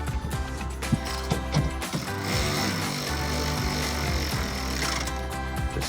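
Small 10 mm bolts on a 2005-2011 Toyota Tacoma replacement headlight being snugged down, a busy stretch of close ratcheting clicks and mechanical taps over a steady low hum, with no voices.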